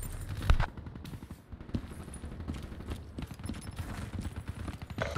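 Call of Duty Black Ops 3 gunfire crackles as a dense run of rapid shots at moderate volume, mixed with other game sounds and no talk.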